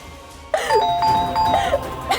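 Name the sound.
doorbell ringing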